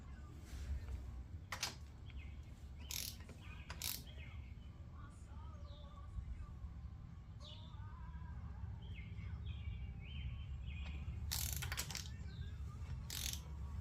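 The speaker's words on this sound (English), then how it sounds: "I'm going to torque these down to 33 foot-pounds" A ratchet tightens nuts on a Honda 400EX ATV, with sharp intermittent clicks scattered over a steady low background hum and faint birdsong in the distance.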